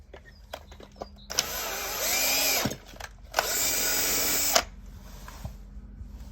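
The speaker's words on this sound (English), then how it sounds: "Take a tap and go in and out of them." A threading tap is driven in and out of crud-filled holes in a diesel heater burning waste oil, giving two sustained, loud power-tool whirring bursts of about a second each, separated by a brief pause, with quiet shop background before and after.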